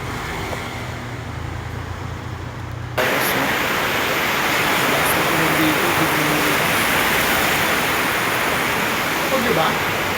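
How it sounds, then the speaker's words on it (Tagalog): Sudden heavy rain pours down, starting quieter and then jumping to a loud, dense, continuous roar around a Honda City RS Hatchback, with faint speech beneath. "Mas umulan bigla dito, ang lakas."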